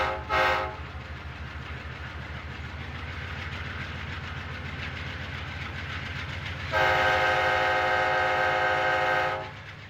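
A train rumbles steadily with rhythmic rail clatter, and its loud horn sounds briefly at the start and again in a long blast near the end.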